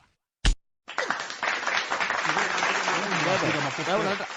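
An outdoor crowd at a political gathering claps after a sharp single knock, the applause and crowd noise rising and sustaining while voices talk over it.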